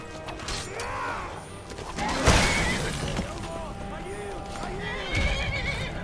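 A horse in the video game Skyrim whinnies several times as hooves clip-clop beneath it, with a sharp crash partway through and a voice talking over the game.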